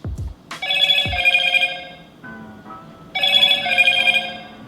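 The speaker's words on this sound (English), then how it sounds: "You get that annoying ringtone, unfortunately" A Motorola Moto e5 Play phone plays its ringtone, a loud, bright electronic melody close by that runs in two clear bursts with a brief softer passage between them and no voices.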